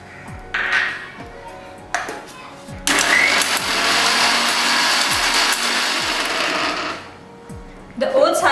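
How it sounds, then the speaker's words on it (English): A kitchen mixer grinder grinds a small amount of oats into powder, giving a loud steady whir that runs for about four seconds with no one talking over it. Short clicks and bursts come before and after the run. "I will grind the oats in a mixer grinder."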